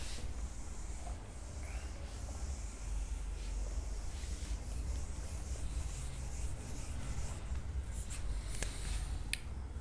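Chalk or marker scratching and rubbing steadily across a board while formulas are written, a continuous soft scraping texture with a few sharper taps near the end, with no talking.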